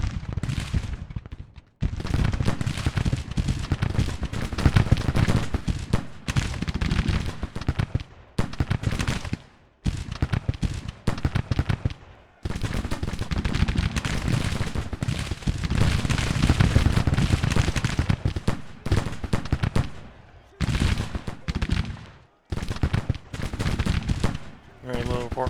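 Rifle musket volleys crackle through a Grand Tactician: The Civil War battle, the Union campaign's Second Battle of Alexandria, in dense, repeated bursts of massed gunfire with brief gaps between them, loud and continuous for most of the stretch.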